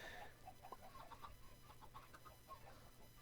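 Chickens in the video game Sky Factory 3 give faint, repeated little clucks scattered over a low, steady background hum.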